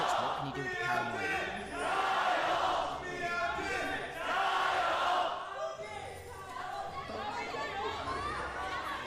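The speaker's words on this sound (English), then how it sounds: "See the crowd getting into it too." At an LPL esports match in China, an arena crowd roars and cheers in waves, the noise swelling and fading under continuous commentator talk.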